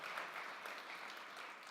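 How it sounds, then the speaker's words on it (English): Audience applause after a keynote speech at the BIGSOUND music conference, steady clapping from the crowd heard faintly and briefly, with no pauses. "Round of applause."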